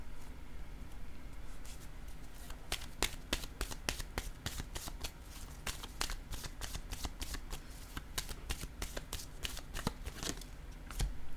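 Tarot cards being shuffled and drawn, a steady run of crisp close riffles and sharp slaps that carries on for several seconds with no talk.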